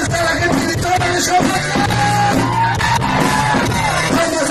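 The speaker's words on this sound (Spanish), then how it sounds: "¡Vamos a escuchar ese grito!" A crowd at a San José patron saint festival shouts and cheers continuously, a dense roar of yells and whoops with a sustained tone running through it.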